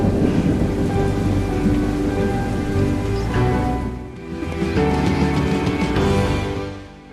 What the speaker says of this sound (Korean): 평범하게 내리는 비마저도 말이죠